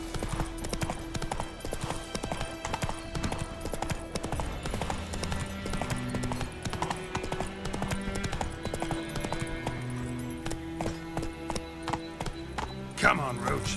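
Geralt's horse Roach trotting in The Witcher 3, rhythmic hoofbeats clopping steadily throughout under game music and voices, ending with a brief louder burst.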